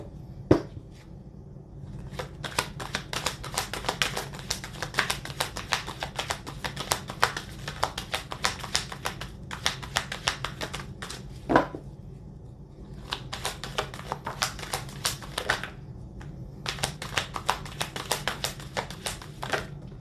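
Tarot spirit message cards being shuffled by hand in bursts of rapid riffling clicks, close and crisp, with short pauses between shuffles and a quiet room behind.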